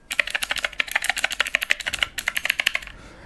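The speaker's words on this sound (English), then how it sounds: "it's actually got mechanical switch buttons built in for control" Mechanical switch buttons on a Divoom Ditoo retro pixel-art Bluetooth speaker are pressed rapidly near the microphone, giving a crisp, loud run of keyboard-like clicks in quick irregular succession before stopping.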